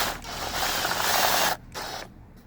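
A part being screwed onto a homemade Halloween skull fence: a steady, close ratcheting and grinding of the fastener for about a second and a half, then short pauses broken by a few brief bursts of turning.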